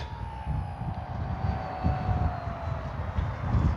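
An E-flite Sportix radio-controlled model airplane flies over an open field with a steady electric whine that slowly falls in pitch. The tone stays fairly faint above a heavy rumble of wind noise.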